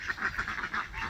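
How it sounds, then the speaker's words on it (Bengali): Ducks and geese on a village pond call in a busy chorus of repeated quacks and honks, close and moderately loud, several overlapping in an uneven rhythm with no talk. "রাজহাঁসও আছে"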